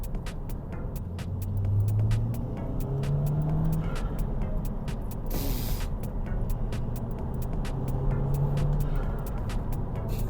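An Audi TT Mk2, just fitted with a new cam follower and with an engine fault cleared, drives and accelerates, producing a steady droning engine and road hum that swells at times, with light ticking noises over it.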